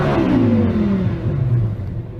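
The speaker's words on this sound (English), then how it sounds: "rev up our engine" A 5.2-litre V10 car engine revving hard, a loud close roar climbing then easing back as the pitch falls away, heard alone with no voices.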